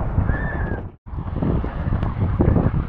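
Gusty wind buffets a microphone during a seaside marathon at Blouberg Strand with rough, loud rumbling, dropping out for a moment before blustering on; rain may be mixed in, and no one speaks.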